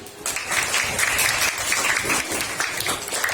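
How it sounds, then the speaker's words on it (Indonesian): Students in a classroom break into applause, a dense, steady patter of many hands clapping together at close range for the whole stretch, with no voices standing out. "Ya, luar biasa, tepuk tangan."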